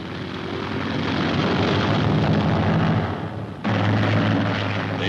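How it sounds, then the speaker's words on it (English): A semi-obsolete F6F Hellcat drone carrying a one-ton bomb load roars off a carrier catapult, a loud sustained engine and launch rush on an old newsreel soundtrack that briefly dips and then surges back, with no talking. "robot missile is catapulted aloft. It is a semi-obsolete Hellcat carrying a one-ton bomb load and a television camera instead of a pilot"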